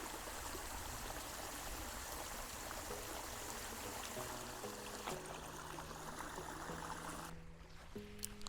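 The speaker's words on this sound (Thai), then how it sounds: "หัวฉีดน้ำแรงดันสูงตัวนี้สามารถปรับน้ำพุ่งตรงหรือปรับให้น้ำกระจายเป็นม่านหมอกได้" A wireless remote-controlled DC 12V pump drives water through a high-pressure nozzle, a steady close rushing spray that runs continuously with faint tonal hums underneath, alone without any talk.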